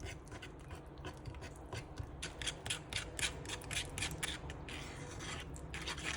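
A face mask mixture with yogurt or sour cream being stirred in a bowl, a steady run of soft wet scraping and rubbing strokes repeating quickly and close up, with no talk.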